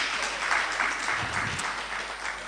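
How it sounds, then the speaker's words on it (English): Workshop audience clapping for a speaker, a broad, even rush of many hands applauding that holds steady from start to finish without any talking. "Please clap your hand for me."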